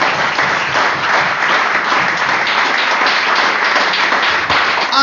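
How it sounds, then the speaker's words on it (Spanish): Church congregation applauding during a worship service, dense sustained clapping from many hands at a steady level throughout. "Baje la mano, júntela con la otra y aplauda al Rey."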